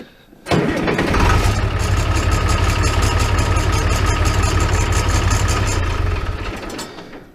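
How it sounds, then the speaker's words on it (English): A Farmall 806 tractor engine starts with a sharp catch, then settles into a steady, loud, low rumbling idle that runs for several seconds before fading slightly at the end. "Start the tractor."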